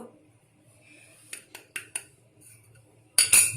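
A spoon clinks against a bowl while green chili pickle is mixed with salt, turmeric and spices, a few light taps followed by a louder scraping clatter at the end.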